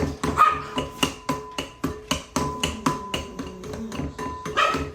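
Dogs bark repeatedly in a quick, uneven string of sharp, loud barks close by, with a few higher yips mixed in.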